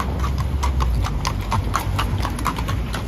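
Horse hooves clip-clop steadily on a New York City street on a Sunday afternoon, a quick close rhythm of hoof strikes over loud, constant city background noise.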